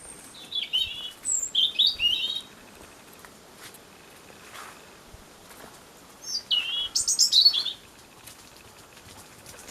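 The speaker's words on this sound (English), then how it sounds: "There's a little robin up at the top of the oak tree. I can't see it, just hear it." A robin sings from high in the top of an oak tree, fairly distant: two bursts of bright, high, trilling phrases, one near the start and one later, separated by a quiet stretch of faint background rustle.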